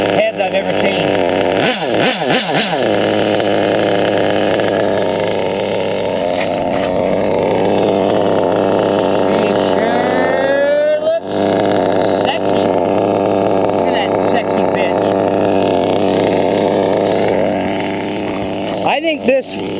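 A modded Triton L3 V2 Black Edition RC nitro engine runs continuously at close range, a loud high buzzing drone with brief rev changes, while someone talks over it.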